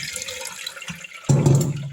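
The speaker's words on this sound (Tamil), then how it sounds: "இந்த மாதிரி கண்ணு அடியில் எல்லாத்தையும் வடிகட்டிடுங்க" Water drains from cooked rice through a perforated strainer for old-style fermented rice, a soft trickle that suddenly swells into a louder, close gushing pour near the end.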